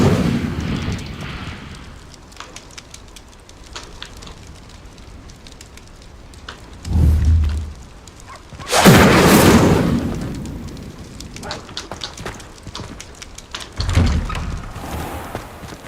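The Incendio fire spell cast in Hogwarts Legacy: one loud, roaring whoosh of flame blasting midway, with a few duller thumps and bursts before and after against quiet game ambience.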